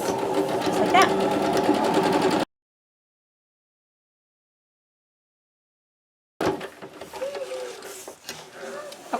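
A sewing machine runs a seam through t-shirt fabric for a cloth diaper, a steady close whir that stops for several seconds of silence, then resumes more unevenly with a voice talking over it.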